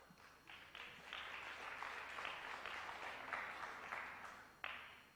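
Crowd applause rolls on steadily at a professional pool league final after a safety shot, a sustained moderately loud wash of clapping with a sharp final clap near the end.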